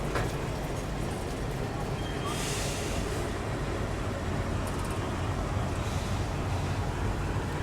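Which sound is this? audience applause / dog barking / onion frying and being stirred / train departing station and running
train departing station and running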